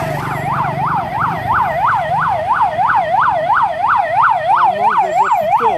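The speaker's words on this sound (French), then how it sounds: "cette ambulance quitte loin" An ambulance siren wails in a fast, regular up-and-down sweep on a city street at night, loud and close, continuing steadily for several seconds without speech.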